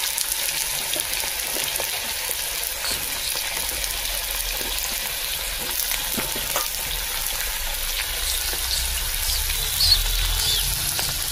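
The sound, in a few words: potatoes frying in oil, oil splattering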